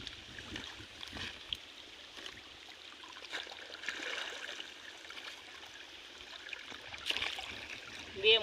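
Water gushes steadily from a pump motor into a pigeon pea field. The sound is a continuous broadband rush at moderate loudness, with a few brief splashy surges and no clear talk.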